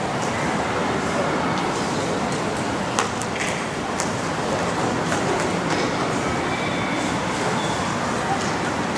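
A train sound effect plays during a children's storytelling contest: a steady, loud rumble of rolling rail wagons with faint clacks, running without a break while voices murmur faintly underneath.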